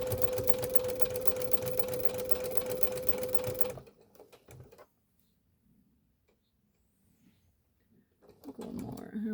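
Sewing machine stitching quilted fabric for a wall display, running loud and steady with a fast rhythmic hum for about four seconds, then stopping; quiet handling follows and soft talk comes in near the end.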